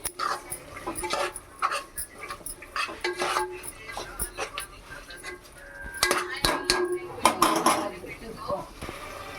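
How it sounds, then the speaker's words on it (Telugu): A spoon scrapes and knocks against a pot while a masala mixture is stirred, giving irregular clinks and scrapes at close range. A voice speaks intermittently over the stirring. "బాగా కలిసేట్టుగా, మసాలా కలిసేట్టుగా బాగా కలుపుకోవాలి."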